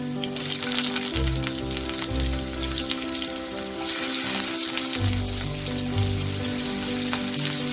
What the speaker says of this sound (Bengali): তেলটা গরম হয়ে গেছে। এবার এতে আমি প্রথমে আলু কটা দিয়ে দেবো।